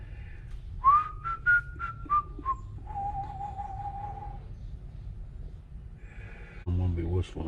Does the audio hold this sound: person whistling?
yes